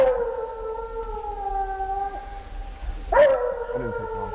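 A Treeing Walker Coonhound bays at a tree on a frosty autumn night near a cornfield, giving long drawn-out howls followed by a sharper, rising bawl. The hound is moderately close and heard alone, with no talking.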